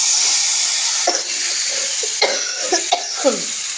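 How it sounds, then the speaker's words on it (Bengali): Several short, sharp coughs come from an unwell person standing close, over the constant hiss of food simmering in a pan. "সরি, কাশি হচ্ছে তো।"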